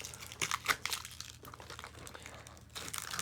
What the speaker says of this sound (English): Just going to get this tape off.